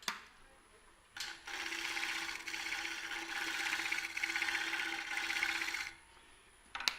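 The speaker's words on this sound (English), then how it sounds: "What I'm doing is shear scraping with that bottom wing to get this as close as I can to the right shape." A lathe turns a wooden three-legged bowl while a tool shear scrapes its surface, a steady raspy scraping hum lasting several seconds between quieter moments of the spinning lathe.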